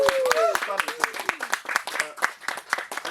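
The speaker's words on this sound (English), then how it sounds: "a round of applause" Scattered clapping from a small ceremony audience, a few distinct claps sounding close, mixed with a voice and chatter throughout.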